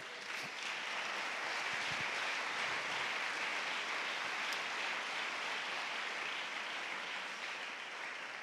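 Congregation applause at a national church congress: a faint, continuous wash of many hands clapping, steady and distant like rain, with no talking.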